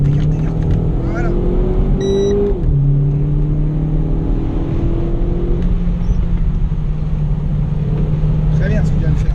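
Renault Clio 4 RS accelerating hard on a race circuit at the Bourbonnais track, engine note climbing through gears with a sharp shift drop, loud and close throughout while an instructor talks over it.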